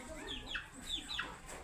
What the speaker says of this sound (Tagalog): Ito pa yung manok na masok ng bahay.